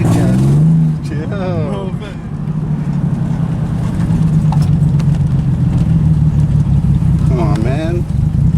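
A Nissan 300ZX that runs badly drones through a test drive, its engine humming low and loud and climbing slightly in pitch, with voices speaking briefly over it near the start and end.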